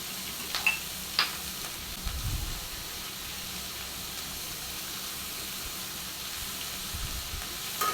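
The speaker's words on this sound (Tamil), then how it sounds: "இப்போ இது வேகிற வரைக்கும் நல்லா போட்டு வதக்கிக்கலாம்." Carrots, beans and egg sauté in a pan as a faint, steady sizzle with a few soft stirring scrapes, quiet and unaccompanied by talk.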